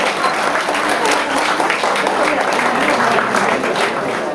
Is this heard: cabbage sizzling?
no